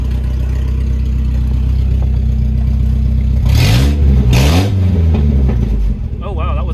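Volvo car engine, fitted with a new in-tank fuel pump, idling and then revving sharply in two quick throttle blips, loud and close, with a voice talking over it near the end.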